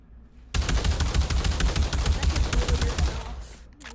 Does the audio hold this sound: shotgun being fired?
yes